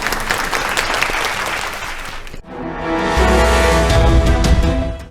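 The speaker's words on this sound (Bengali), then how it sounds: "জোরে হাততালি দুজনের জন্য।" A studio audience at a Bengali family game show applauds loudly for two contestants. After a couple of seconds the thick clapping gives way to a swelling burst of show music.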